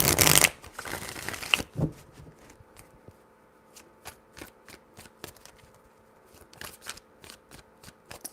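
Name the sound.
shuffling tarot cards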